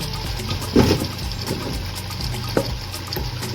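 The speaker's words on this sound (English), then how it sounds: "And add some broth." Broth pours into a pan of turkey wings with heavy cream, a close, continuous liquid gush with a couple of small splashes and clunks.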